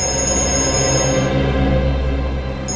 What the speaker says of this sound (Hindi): एक मिनट, फोन आ रहा है।